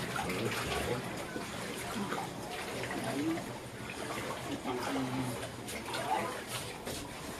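Typhoon flood water outside a home, a steady broad wash of sloshing, rushing water filling the scene, with voices talking faintly underneath.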